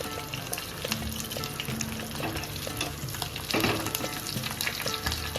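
Chillies, curry leaves and asafoetida crackle and sizzle in hot oil for a dal tadka, a loud, close, continuous frying hiss with stirring.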